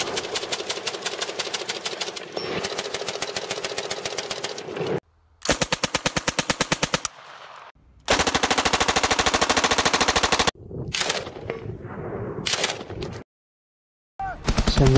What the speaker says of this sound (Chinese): 现在是芬兰电影里面的枪械开火，能看得出来都是真枪